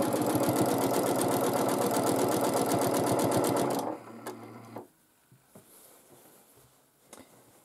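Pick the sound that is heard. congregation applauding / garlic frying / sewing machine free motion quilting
sewing machine free motion quilting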